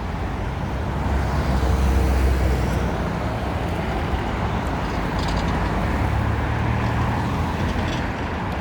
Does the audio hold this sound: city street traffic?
yes